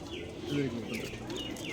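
Silver Simi pigeons coo on an abandoned rooftop, a few soft low calls close by, with brief chirps and a voice talking nearby.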